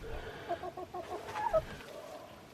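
Backyard hens in an urban setting clucking softly in short, scattered bursts, close by, with a low rumble of background noise underneath.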